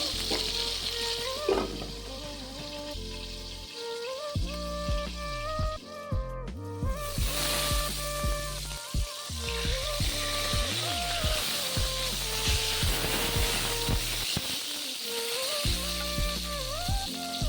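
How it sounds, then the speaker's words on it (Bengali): Brinjal sizzling as it fries in oil, a steady crackle with occasional scraping stirs, while background music with a melody plays throughout. "বেগুন ভাপা বানানোর আগে বেগুনটাকে হালকা করে ভেজে নিলে তাতে খেতে আরও ভালো লাগে"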